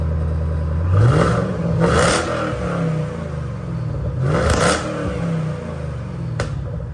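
A nearby Mustang engine idles with a deep rumble, then revs sharply a couple of times, the exhaust roaring up and dropping back each time.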